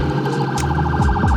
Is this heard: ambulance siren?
yes